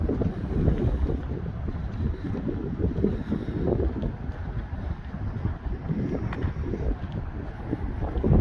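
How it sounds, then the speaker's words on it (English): Wind gusts across the waterfront at Harry DeWolf Park in Bedford, Nova Scotia, a constant close rumbling roar of air hitting the microphone with no voices. "A little bit windy down here."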